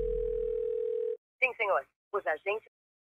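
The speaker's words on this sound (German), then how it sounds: "Und jetzt ruft er eben halt bei dieser Telefonnummer an." A telephone dial tone in a Fortnite Season 2 teaser hums steadily for about a second, then cuts off, followed by short bursts of speech.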